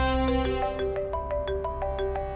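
A mobile phone ringtone for an incoming call plays as a bright electronic melody of quick, evenly spaced tones, close and clear over a low background hum in a Hindi-dubbed Telugu film scene.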